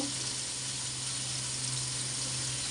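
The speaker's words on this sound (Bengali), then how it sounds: "চিংড়া মাছগুলি সব দিয়ে দেব, এইভাবে সব মেলাই দিব।" Shrimp fry in a pan with a steady, continuous sizzle and hiss. The sound is moderately close and stays even throughout, with no voices.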